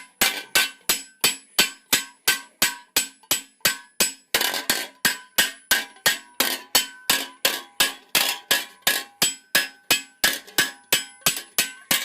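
A rounded cross peen hammer shapes a steel greave for late 14th-century armour, striking in a fast steady rhythm of some thirty sharp metallic blows, each ringing briefly, loud and close with no talking.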